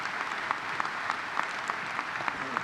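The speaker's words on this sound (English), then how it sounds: "along with Carol, give them a round of applause" Steady, even applause from a large commencement audience honoring the board of trustees, continuous clapping throughout a short stretch with no voices.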